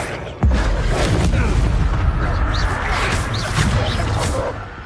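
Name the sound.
Incendio spell cast in Hogwarts Legacy video game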